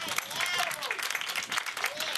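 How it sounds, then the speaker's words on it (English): An audience applauds at an inspirational talk, a dense, steady patter of many hands clapping at a close distance, loud and even for the whole stretch. "So give yourself a round of applause for being here."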